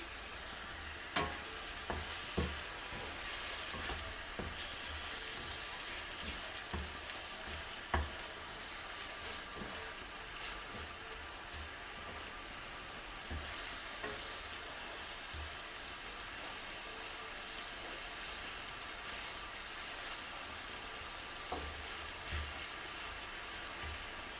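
Shrimp sizzle and fry in hot oil in a pan, salted, for a bitter gourd, potato and poppy seed dish. A steady loud crackle runs throughout, with scattered sharp clinks and scrapes of stirring.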